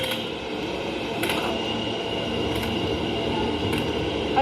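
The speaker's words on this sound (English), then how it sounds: "we missed a train" Subway train pulling away from a station, a steady loud rumble with rail noise and faint higher squeals throughout, no voices.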